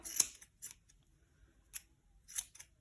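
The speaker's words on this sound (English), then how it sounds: "I feel like my red scissors, yeah, will work well at this point." Red scissors snipping through a yarn pom-pom while trimming it, a handful of crisp, close cuts spaced irregularly in a quiet room, with no talking.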